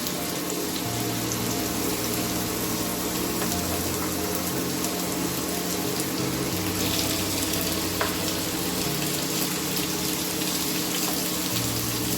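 Pointed gourds frying in hot oil in a pan, a dense, loud, unbroken sizzle like heavy rain, close-up with faint occasional knocks and no talking.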